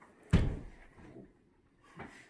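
A wooden interior door bumps once with a solid thud while being carried indoors, followed by faint shuffling and a softer knock about two seconds later, close and fairly quiet.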